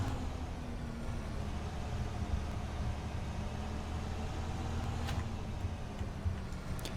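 A 2001 Blue Bird International school bus in the Rigs of Rods driving game pulls away with a faint, steady engine drone, a low continuous rumble with no clear change in pitch.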